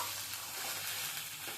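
Mutton sizzling and being stirred in a frying pan while it is braised for a Bengali mutton kosha, a steady close hiss of frying with faint scraping, and no voices.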